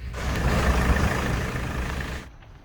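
A car engine, newly repaired after its air mass sensor was disconnected, runs with a steady, rough, loud roar close by for a couple of seconds before cutting off abruptly.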